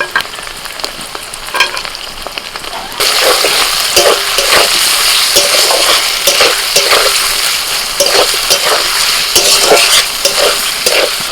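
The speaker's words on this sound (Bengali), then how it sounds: "এবার দিয়ে দিচ্ছি টমেটো কুচি" Chopped tomatoes hitting a hot pan, with the sizzle rising sharply a few seconds in and then holding loud and steady, as a spoon scrapes and stirs in repeated strokes close by, with no speech.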